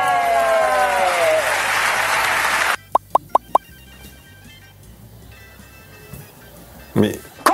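Audience applause sweeps across the first few seconds like a broad wash of clapping, then cuts off abruptly into a few sharp plops and near silence, with faint noise and a short burst near the end.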